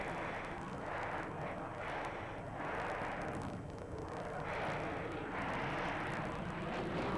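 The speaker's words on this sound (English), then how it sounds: "Major Frank Gorenk flew the aircraft through a grueling flight routine, displaying the aircraft's agility and power" A fighter jet flying an aggressive aerobatic display routine at an airshow, a loud continuous roaring engine rumble that swells and fades in long waves, heard alone without talk.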